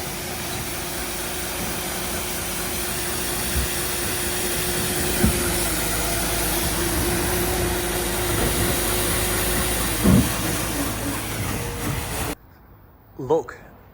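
A Merlo telehandler's engine drones steadily at close range with a hissing hydraulic whine over it for about twelve seconds, then it cuts away to near-silence broken by a couple of faint knocks.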